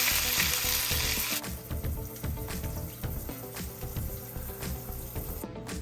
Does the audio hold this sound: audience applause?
no